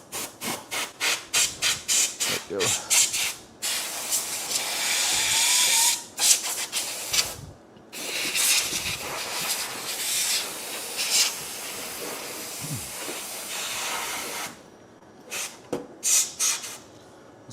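Compressed air blasting dust out of a slot machine's card slot: a run of short, loud hissing bursts, then a long sustained blast, and a few more quick bursts near the end, all close by.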